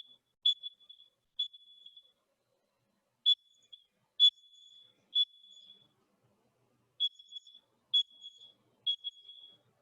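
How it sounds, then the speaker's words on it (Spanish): Fire alarm sounding during a sprinkler activation test: a series of short, loud, high-pitched electronic beeps repeating in irregular clusters, with silence between bursts and no talk. "la idea es mostrar la activación de la alarma"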